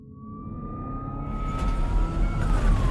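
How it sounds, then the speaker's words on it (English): An ambulance siren wails with a single long tone that slowly rises in pitch, over a low vehicle rumble that grows louder as it goes on. "I hear the sirens blaring"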